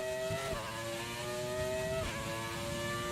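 A Williams racing car's engine in a racing video game drones at high pitch, with gear-change dips and quick rises in tone as it accelerates, loud and steady throughout.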